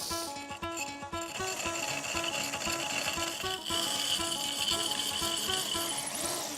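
Continuous close rasping and grinding of a drill bit boring through a plate, with a rhythmic scraping texture and a faint electric motor hum underneath, steady and fairly loud throughout.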